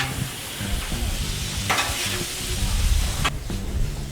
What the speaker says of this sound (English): go ahead and give this a toss. Let it get some of that color of the marinade